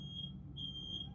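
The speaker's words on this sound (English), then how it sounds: "my fire alarm's going off" A home smoke alarm beeps shrilly in short repeated pulses, faint against a low background hum.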